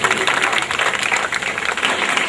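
An audience claps steadily at a teacher's retirement farewell ceremony at Sipur primary school, with a continuous, moderately loud patter and a voice talking over it.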